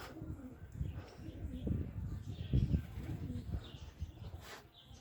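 Soft pigeon coos repeat under quiet outdoor noise, with a person speaking intermittently nearby.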